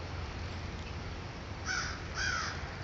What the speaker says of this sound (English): there's an owl in the tree here, and the crows are not happy about it